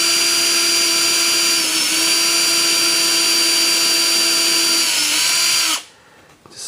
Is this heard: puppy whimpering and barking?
no